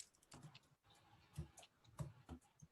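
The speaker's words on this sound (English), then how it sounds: "I got to concentrate on my typing" Faint computer keyboard typing while writing LaTeX in a browser, a few scattered keystrokes and short bursts of quiet clicks with pauses between, no speech.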